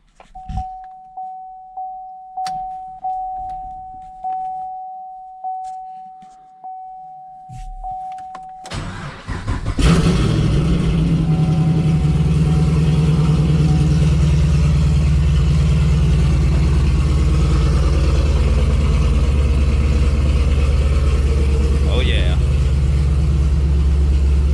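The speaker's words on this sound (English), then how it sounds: "Nice, good running LS3." LS3 V8 in a twin-turbo Camaro with 24,000 miles cranking to life: a series of rhythmic ignition chimes and clicks, a starter grind, then a loud burst into a steady, deep idle that carries on evenly, with someone talking briefly.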